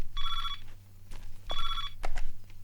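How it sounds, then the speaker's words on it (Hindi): An electronic telephone bell rings in two trilling bursts, loud and close, separated by a brief pause, with a low hum underneath and some light movement sounds. "मिश्रा जी का फोन है।"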